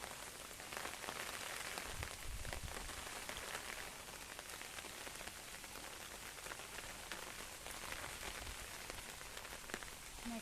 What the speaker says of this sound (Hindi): जोर से काले राति तो वर्षा होची प्रबल रेनफॉल हेवी रेनफॉल